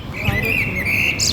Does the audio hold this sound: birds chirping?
yes